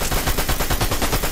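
Rapid, continuous automatic gunfire from the video game Fortnite, a dense rattling burst that is loud and close throughout.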